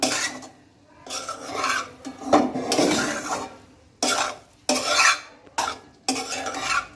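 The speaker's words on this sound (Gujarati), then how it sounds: "અને હવે આપણે સારી રીતના મિક્સ કરી લઈએ" Sev khamni batter is worked by hand and spoon in a bowl, making bursts of soft scraping and stirring separated by short pauses, close and fairly loud.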